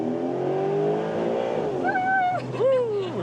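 A Porsche 911 GTS Hybrid convertible accelerates with its top down, the engine note rising steadily and loud up close, with a brief climbing tone near the end and wind noise throughout.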